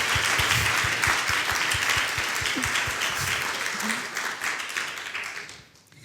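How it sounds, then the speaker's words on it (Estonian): An audience applauds steadily with dense, loud clapping that carries on for several seconds before fading away at the end. "Я хочу, чтобы вы аплодировали Аделе и Ребекке."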